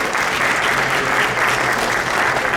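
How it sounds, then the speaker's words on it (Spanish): A seated audience claps warmly and steadily to welcome Octavio Santa Cruz Urquieta at a Victoria Santa Cruz centenary event, dense sustained applause filling the room throughout. "vamos a recibir con un fuerte aplauso a Octavio Santa Cruz Urquieta"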